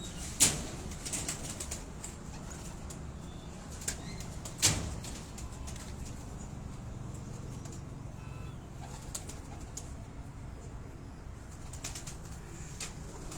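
Pigeons fly over a rooftop loft in Dhok Kala Khan, Rawalpindi, with two sharp wing claps standing out against a faint, steady outdoor background.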